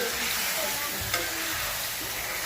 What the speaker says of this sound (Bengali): আর এই যে দিলাম আলুটাকে ভালোভাবে আলু দিয়ে কষা নিলাম।